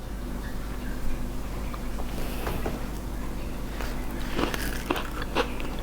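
Someone bites into a warm, soft chocolate chip cookie with a crunchy edge, giving a few faint crunches and chewing sounds over steady background hiss and rumble.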